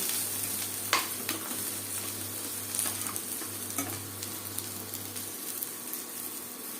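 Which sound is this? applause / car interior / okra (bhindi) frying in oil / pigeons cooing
okra (bhindi) frying in oil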